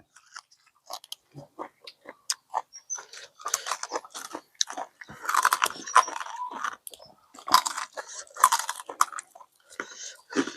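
Crunchy, crispy Thai pork rinds being bitten and chewed close up, with a long run of sharp crackling crunches and bites in irregular bursts, no talking.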